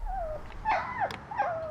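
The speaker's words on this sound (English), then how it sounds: "there's been a big drive to bring in as many new puppy recruits as possible" Puppies newly recruited as West Midlands Police dogs give short whimpering yelps and whines, close and moderately loud, in a few separate bursts with no talk.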